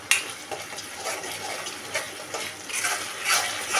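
Masala being stirred and sautéed in a pan for chicken biryani in a small kitchen, a soft continuous sizzle with scraping strokes of the spatula at irregular intervals, close and moderately loud.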